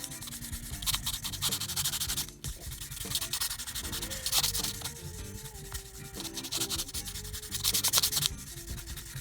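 A polishing pad buffs the finish of a 1962 Fender Custom Telecaster, producing a close, continuous rubbing and scuffing sound with rhythmic swells and a faint whirring tone running beneath.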